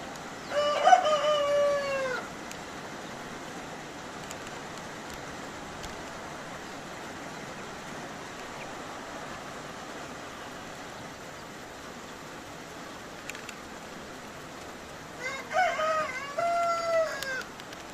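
Chickens at a coop at dusk, with a rooster crowing twice, once near the start and again near the end, over a steady low background of rain and faint clucking.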